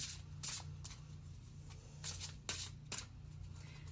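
Tarot cards are shuffled by hand close up, a quiet series of crisp riffling bursts repeating at irregular intervals over a low steady hum.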